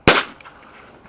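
A single sharp, loud shotgun blast fired at a duck during a duck hunt, with a quick decay and faint outdoor ambience afterward.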